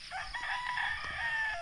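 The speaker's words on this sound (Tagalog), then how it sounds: "Maingay na yung mga manok natin mga kagapay." A rooster crows once, fairly faint and a little distant, at a farm yard with chickens and pigs in the early morning.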